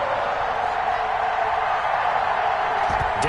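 NFL stadium crowd at Arrowhead before kickoff against the Minnesota Vikings, a dense, loud, continuous roar of cheering with a brief sharper burst near the end.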